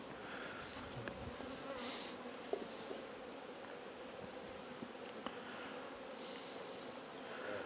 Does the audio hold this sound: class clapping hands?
no